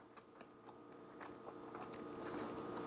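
Crunchy collagen protein cookie bitten and chewed close to the mic, a series of short crisp crackling bites and chews over a low steady background hum, no speech.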